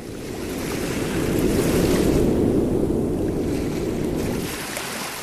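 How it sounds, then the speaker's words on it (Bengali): Strong wind blows over a river at night in a horror cartoon, a loud continuous roaring rush that swells and then eases slightly, with no voices. "বাতাস বইছে খুব জোরে।"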